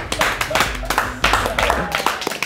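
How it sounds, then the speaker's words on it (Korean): A small group claps hands in a lively burst of quick, uneven claps lasting a few seconds, close and bright, with voices chattering and laughing underneath. "이런 식으로 해서 박수!"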